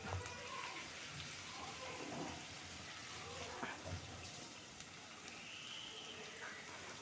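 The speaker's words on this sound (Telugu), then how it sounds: "వేగుతున్నాయి." Ivy gourd (tendli) frying in a pan for a masala curry, a faint, continuous rain-like crackle of oil that stays even and low, with nothing else prominent.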